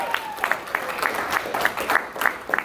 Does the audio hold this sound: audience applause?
yes